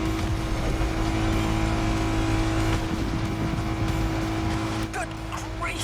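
A race car engine in The Crew Motorfest roars at full speed down a hill, a loud steady drone with brief tire squeals near the end.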